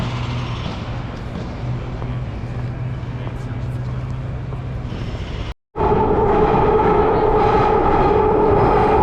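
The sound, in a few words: London subway train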